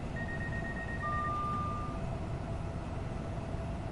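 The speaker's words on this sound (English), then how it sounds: "And there's the whistle." Depot whistle in Train Sim World 5 on a London commuter train, two short steady tones in quick succession, faint over a low rumbling cab hum, with no talk.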